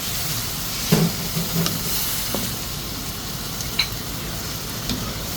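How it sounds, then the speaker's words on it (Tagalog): A pot of adobo with string beans and chicken hotdog bubbles and sizzles at a low level, with soft clinks of stirring now and then and no talking. "Sarap na ng kulo."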